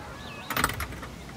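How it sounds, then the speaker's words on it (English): A park gate swings shut with a brief metallic clank and rattle, a single short impact after a quiet moment. "Mum closes the gate."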